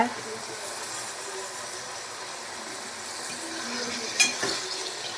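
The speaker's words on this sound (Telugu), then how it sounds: "చూడండి, మా ఇంట్లో ఈరోజు కాకరకాయ ఫ్రై చేస్తున్నా" Bitter gourd fries in oil, giving a steady soft sizzle throughout, with a brief clatter near the end, probably from stirring.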